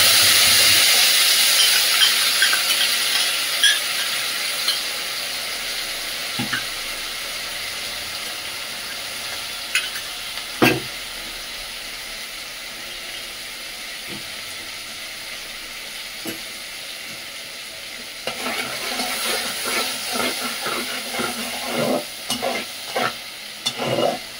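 Onion, nigella seeds and dried chili fry with spice paste for a prawn malai curry, a steady close sizzle broken by occasional spoon stirs and scrapes that grow busier toward the end.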